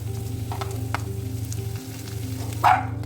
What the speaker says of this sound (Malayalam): ജസ്റ്റ് ഒന്ന് ഇളക്കിയതിന് ശേഷം നമ്മൾക്ക് കറിവേപ്പില ചേർത്ത് കൊടുക്കാം.